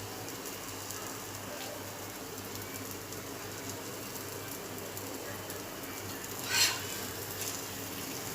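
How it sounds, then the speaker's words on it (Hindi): Khaproli snacks fry in hot oil with a steady, even hiss and crackle at low to moderate volume, broken once by a brief sharper sizzle. "सब खापरोलियाँ तल के लेंगे।"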